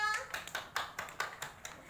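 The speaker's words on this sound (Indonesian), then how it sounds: "tepuk tangan dulu buat Mbak Elta" Classroom applause during a microteaching lesson: a small group claps in a quick, fairly even rhythm, roughly ten distinct claps, quiet and close, with a brief voice at the start.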